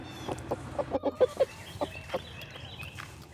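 Backyard chickens in a pallet coop cluck in a quick run of short, close, rhythmic clucks, then slower scattered clucks over faint background noise.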